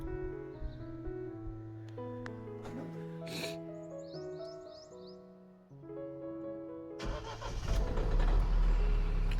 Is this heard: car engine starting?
yes